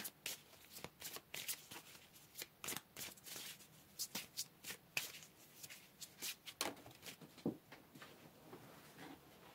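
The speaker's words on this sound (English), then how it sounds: "Dropped cards." Tarot cards shuffled by hand in a steady run of crisp riffling bursts, with occasional slaps as cards drop, close and fairly quiet with no talking.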